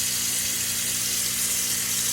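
Cold tap water runs steadily into a sink to soak a butterflied lamb leg, a constant close hiss and splash with no talk.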